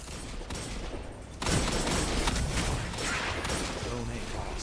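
Fatebringer hand cannon and sniper rifle fire in the Destiny game: steady bursts of gunfire, with a louder volley kicking in partway and continuing as dense shooting, while a player talks over it.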